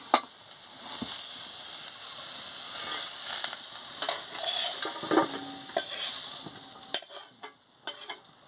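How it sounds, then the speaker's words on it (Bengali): Jackfruit curry sizzling in a pan while being stirred, with a continuous hiss and repeated scraping strokes, a few sharper knocks near the end; no one speaks. "ভালো করে ভেজে নিচ্ছি। ভালো করে একটু ভেজে নিলে তরকারিটা খেতে ভালো লাগবে।"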